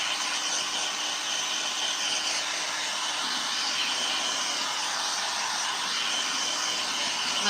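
Hair dryer blowing steadily on a textured upcycled cigar box top, a constant broad airy whoosh held at even loudness from start to finish with no pauses and no talking.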